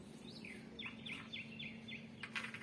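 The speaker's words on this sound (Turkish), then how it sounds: "Çok hoşuma gitti böyle kuşların sesleri." A bird chirps a quick series of short, repeated notes, fairly faint against a quiet night background hum on a balcony.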